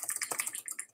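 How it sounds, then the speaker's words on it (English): Rapid, crisp clicking from a Razer BlackWidow Chroma mechanical keyboard, keys struck in a quick irregular burst close to the microphone, with no voices. "Check out the click. Hear the click."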